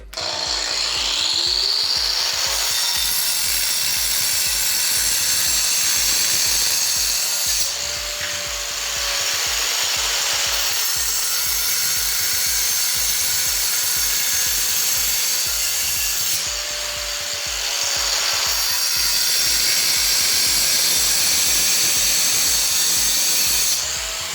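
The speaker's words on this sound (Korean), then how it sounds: "콘크리트 한번 잘라보고 싶은데" A multi-purpose blade on a power tool grinds a groove into an old concrete block, a loud continuous abrasive rasp that rises in pitch during cuts and eases in brief pauses near the eighth and seventeenth seconds, with no talking.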